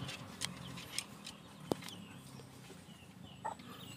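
A wild junglefowl hen (labuyo) gives a few soft, scattered clucks close by, short separated calls over a low rustling background with no talking.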